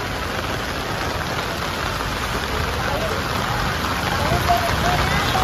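Rain falls steadily and densely, a constant close hiss of drops hitting surfaces throughout, with faint voices underneath.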